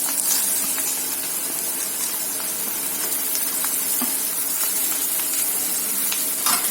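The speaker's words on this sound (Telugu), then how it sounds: "బీరకాయ బాగా కలపాలండి" Ridge gourd with salt and turmeric is stirred in a frying pan, a loud, dense, continuous sizzle with faint scraping from the spoon throughout.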